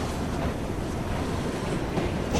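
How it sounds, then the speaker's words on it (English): A noisy train in Assassin's Creed Syndicate gives a loud, continuous rumble with a windy roar over it, an even wash of low noise and no speech. "it's a noisy train"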